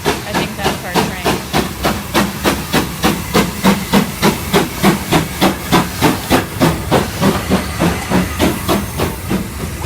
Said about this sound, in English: I think that's our train.